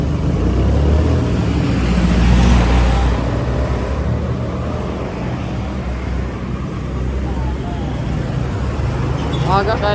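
Steady roadway rumble of cars and buses passing nearby on a road, with engines swelling and fading at moderate loudness throughout, under faint background voices.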